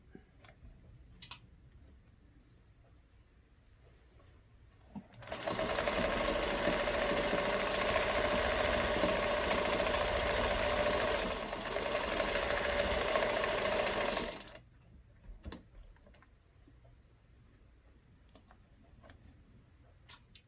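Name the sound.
sewing machine stitching a collage hat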